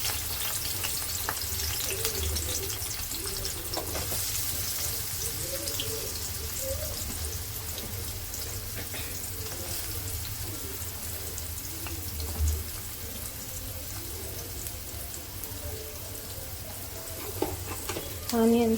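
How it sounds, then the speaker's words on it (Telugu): Onions frying in a pan for egg curry, a continuous moderate sizzle with low steady background hum throughout. "ఆనియన్స్ని కొంచెం ఫ్రై చేసుకోవాలా."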